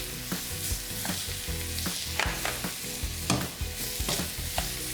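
Chili powder and granulated garlic sizzle in a hot pan of soup ingredients while a spoon stirs them through, giving steady frying hiss with repeated scraping clacks over a few seconds, close up and without voices.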